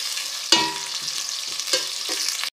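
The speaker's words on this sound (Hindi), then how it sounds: "मीडियम फ्लेम पर हम प्याज को ब्राउन करेंगे।" Onions brown in a pan over a medium flame, with loud close sizzling and several sharp stirring scrapes and bursts of crackle against the pan.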